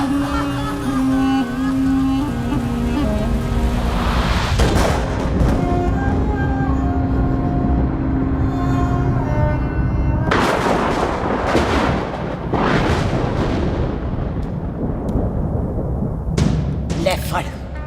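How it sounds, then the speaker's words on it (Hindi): Loud gunfire from a dramatic film shooting scene, a string of heavy sharp shots fired one after another into a man's chest, close and harsh amid dense background sound. "मार दी सारी गोलियां उसकी छाती में।"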